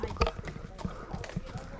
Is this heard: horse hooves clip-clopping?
yes